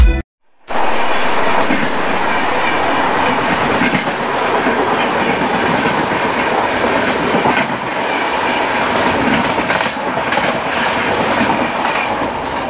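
The Sadbhavna Express pulls into platform 1, wheels rolling loud and steady with rhythmic clickety-clack over rail joints after a brief quiet start, the rumble filling the whole stretch.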